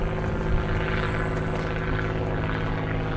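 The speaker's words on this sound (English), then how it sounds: "There's an airport right over there, so constantly have planes coming over us." A propeller airplane passes overhead near an airport by the water, a steady loud drone filling the whole stretch without pause.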